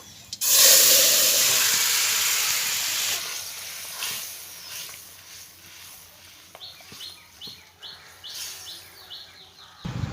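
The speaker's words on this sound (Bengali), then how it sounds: "তরকারিটা সাঁতাল দিয়েছি কিছুক্ষণের জন্য ফুটিয়ে নেব" Vegetable curry with eggplant, for a silver carp fish curry, goes back into hot mustard oil with dried red chillies and panch phoron. It gives a loud burst of sizzling that fades to a steady hiss, with a few light clinks toward the end.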